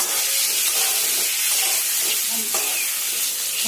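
Boiled potatoes fry in hot oil for a vegetarian jackfruit biryani, giving a loud, continuous sizzle and hiss with faint stirring scrapes and no talk.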